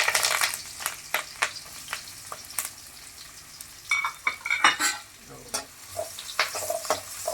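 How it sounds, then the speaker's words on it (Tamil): Onions and curry leaves fry in hot oil in a kadai for tomato sambar, a close, continuous sizzle broken by repeated stirring scrapes and clinks of a ladle against the metal pan. "இப்போ வெங்காயத்தை போட்டுக்கலாம்."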